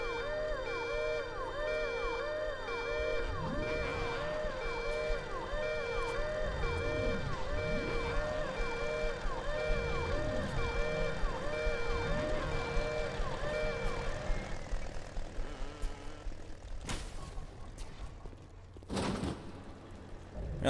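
An alarm in the game Bioshock sounds a looping, wailing siren with a steady repeating rise and fall, loud for most of the stretch before it cuts out, leaving softer clanks and noises.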